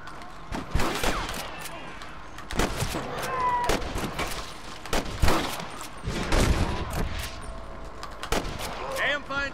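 Bursts of rapid gunfire and scattered single shots crackle through a busy battle in Red Dead Redemption, loud and close, with some indistinct talk mixed in.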